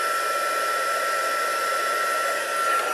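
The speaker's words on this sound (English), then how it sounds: "grab my trusty cheese board and my heat tool, which should hopefully still be quite warm" Heat gun blowing hot air to melt embossing powder during card stamping, a steady, loud, unbroken whoosh with a high whine running throughout, no voices.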